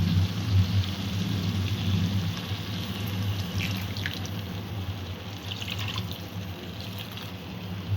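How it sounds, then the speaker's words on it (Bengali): Water is poured into a Bombay duck (loitta) fish curry of fried spiced masala, making a continuous, fairly loud splashing rush that runs unbroken from start to finish. "এবার সামান্য একটু জল দিয়ে ফুটিয়ে নেব।"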